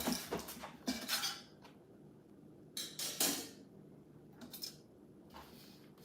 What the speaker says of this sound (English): So this is the rack that I would sit my jars on, and it would sit at the bottom of the canner like that.